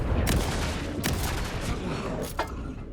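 Several loud, close shotgun blasts from the video game Alan Wake 2 boom out in quick succession, each sharp report leaving a rumbling tail.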